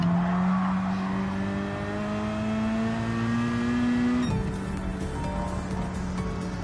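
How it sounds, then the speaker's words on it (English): Racing car engine in Gran Turismo 7, driven with a Fanatec GT DD Pro wheel, holds a steady loud drone that climbs slowly in pitch, then drops sharply on a downshift and resettles lower, close and continuous with no talk. "Oh, I downshifted."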